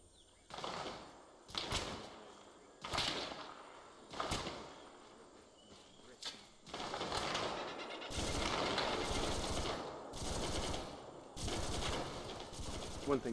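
Suppressive gunfire in a Vietnam-era Arma combat game with the VCom AI mod: repeated bursts of automatic fire at a distance, building into sustained heavy volleys toward the end, with some voices faintly underneath.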